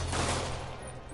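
Enemy gunfire crackles in The Amazing Spider-Man video game, a dense burst of rapid shots lasting about a second, loud and continuous alongside game voices.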